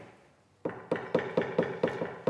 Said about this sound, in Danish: Normalt det, vi gør, hvis vi tjekker, om ting ligger til, det er, at vi banker lige på det.